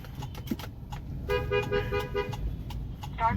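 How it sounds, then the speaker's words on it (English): A Corolla's car horn honks while driving through a flooded road: one sustained honk mid-clip and a short toot at the end, over scattered clicking and a low road rumble. "Yes, the honking worked."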